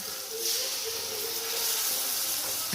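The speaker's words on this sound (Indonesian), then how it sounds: "Bumbu sudah masak, kita masukkan air yang matang," Continuous loud hiss and sizzle as cooked water is poured into a pan of fried spice paste while making chicken lengko, steady throughout with a faint tonal whine.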